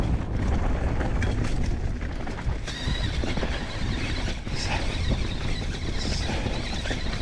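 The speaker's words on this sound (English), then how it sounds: "You hear the suspension just eating everything up." Bonnell 775 MX electric mountain bike riding over rocks, the suspension soaking up hits amid steady loud rumble, rattling and wind buffeting on the microphone, with no talking.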